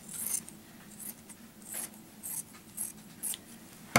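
Scissors cutting quilt fabric for a baby quilt, a series of soft close crisp snips and rasps spaced irregularly, quiet and alone with no talk.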